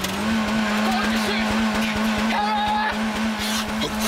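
A car engine runs at full throttle with a steady loud drone and rhythmic pulsing, close up and continuous, while voices talk over it.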